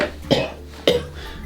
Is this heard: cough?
yes